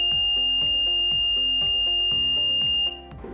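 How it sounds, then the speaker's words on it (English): A piezo alarm on a PoE-powered DC-40N digital countdown timer sounds at zero as a loud, shrill, steady tone over a pulsing rhythmic pattern, then cuts off near the end. "when it reached 0, the PISO alarm went off"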